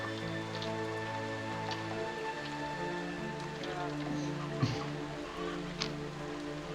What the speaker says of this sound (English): The sound of the rain all around you